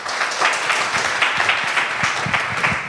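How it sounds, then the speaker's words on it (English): A live audience bursting into dense, sustained applause, many hands clapping at once in a continuous close wash with no talking over it. "can we give him a round of applause for coming up?"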